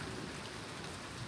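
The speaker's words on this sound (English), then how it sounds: "The rain is becoming stronger one more time." Heavy rain pouring steadily on surfaces, a dense, loud, even hiss with no pauses and no voices.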